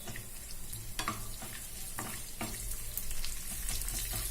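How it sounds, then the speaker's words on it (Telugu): Dried red chillies, mustard seeds, urad dal and cumin sizzle and crackle in hot oil for a Telugu-style dal tempering, with soft popping bursts over a steady fry, close and moderately loud. "ఎండుమిరపకాయలు వేగుతున్నాయి కదా పోపు దినుసులు ఆవాలు మినప్పప్పు జీలకర్ర వేసుకోవాలి"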